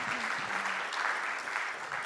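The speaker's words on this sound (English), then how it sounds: "Yeah, you can clap for Leon." Faint, steady applause from an audience, a dense wash of clapping heard at a distance with a brief murmur of voice underneath.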